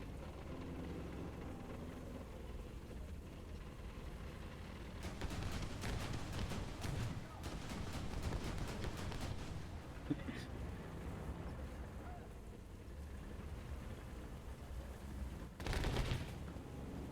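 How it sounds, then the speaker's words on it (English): Bursts of rapid cannon fire in a tank combat video game crackle in dense volleys over a steady engine rumble, with a sharper burst near the end. "I hear very rapid fire cannon."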